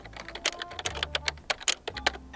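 Rapid computer keyboard typing clatters up close, irregular bursts of sharp key clicks with a few louder strokes, used as a sound effect for animated on-screen text.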